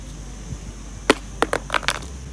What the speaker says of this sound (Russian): Все еще работает. Теперь на мрамор.